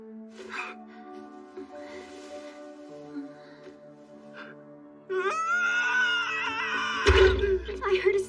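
A loud, high, wavering scream from a character in an English-dubbed anime bursts out in the last three seconds, after a quiet stretch of soft talk over a steady musical background.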